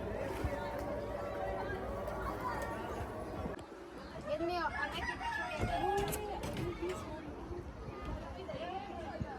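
Roosters crow repeatedly over a busy farmyard backdrop in Egypt of clucking chickens and other birds, with faint voices chattering in the distance.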